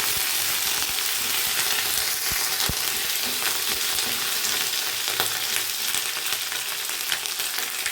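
Ginger paste fries in a pan for a vegetarian curry, a soft continuous sizzle with a few light stirring clicks throughout.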